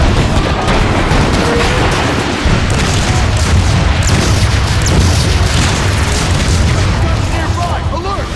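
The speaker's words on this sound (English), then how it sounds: "They're shelling the plaza! It's coming from that warp cannon." Warp cannon shells pounding a plaza in Transformers: Fall of Cybertron, heard as a loud, dense barrage of overlapping booms and blasts with deep rumbling that carries on without a break.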